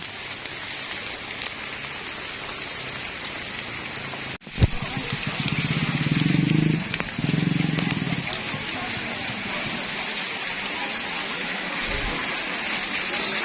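Rain falling on a path down to Tumpak Sewu waterfall in Lumajang, East Java, a steady broadband hiss heard close around the listener, with a brief knock and a low rumble partway through.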